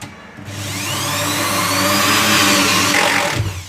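A power drill or driver whirs steadily for about three seconds while driving screws to fit a stainless steel basket into a kitchen cabinet, starting and stopping abruptly, close and loud with no talk.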